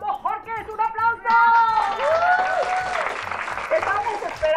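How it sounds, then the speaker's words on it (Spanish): On a TV variety show, a lone voice is heard first, then audience applause breaks out and keeps going as a steady clatter of clapping with the voice continuing over it. "¡Un aplauso!"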